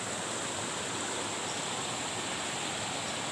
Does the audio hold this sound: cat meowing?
no